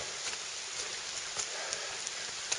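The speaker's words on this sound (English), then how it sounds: "It's raining again." Steady rain falls on a hiking trail in Uwharrie National Forest, a continuous close hiss with a few brief louder patters and no voices.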